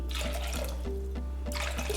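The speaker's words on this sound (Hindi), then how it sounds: "तो इसमें 2 कप हम पानी भर के डाल देंगे।" Two cups of water pour in a steady splashing stream into a pot of soaked sabudana, close and continuous over a low background hum.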